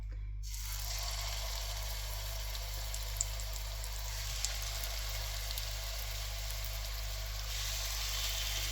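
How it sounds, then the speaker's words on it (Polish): Steady, even sizzling of cutlets frying in butter in a pan, continuous and fairly quiet, with no talking. "Nasze kotlety przekładamy teraz na patelnię."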